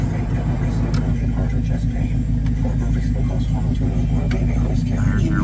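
A 1974 Dodge Challenger idling with a steady, deep rumble close by, constant and even throughout, while someone talks over it.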